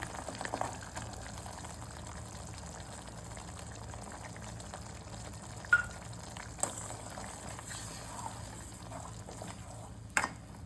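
Tamarind pulp with jaggery simmers in a pot for pulihora karam, giving a faint, steady bubbling hiss with a few soft clicks and pops scattered through it.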